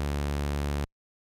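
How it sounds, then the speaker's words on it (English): A Buchla 296e modulation oscillator gives a steady, buzzy, harmonically rich synth tone that holds evenly for under a second, then cuts off abruptly to silence. "Here is the sound of the modulation oscillator"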